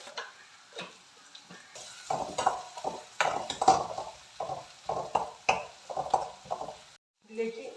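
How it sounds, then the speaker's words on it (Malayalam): Onions frying in a pan with a pinch of turmeric, with a faint sizzle and repeated scraping stirs and taps of a utensil at an uneven rhythm, close by. "ഇനി നമുക്ക് ഉള്ളി നന്നായിട്ട് മൂപ്പിക്കാം"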